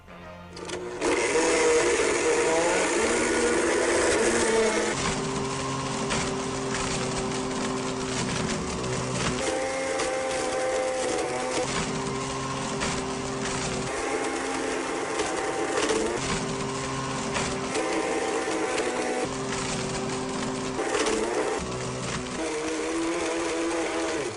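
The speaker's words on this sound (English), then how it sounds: "I knew I could get the iPad in a Blendtec Total Blender." A Blendtec Total Blender grinds an iPad to pieces, a harsh, loud, whining motor roar with rattling and crunching that surges and dips in steady cycles for over twenty seconds, with no voices.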